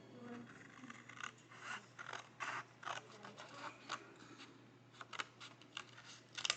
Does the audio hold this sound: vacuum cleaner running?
no